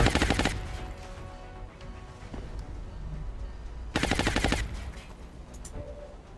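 Video game machine gun fire lays down suppressive bursts at an enemy, two loud, close rapid-fire bursts with a steady background din between them.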